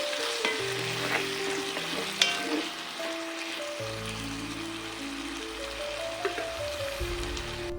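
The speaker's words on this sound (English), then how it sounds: "I added in my tomatoes and stirred a bit." Tomatoes fry and get stirred in a sauce over a charcoal stove in a village setting, a steady close sizzle with occasional spoon scrapes, while a low drone and faint rain-like patter run underneath.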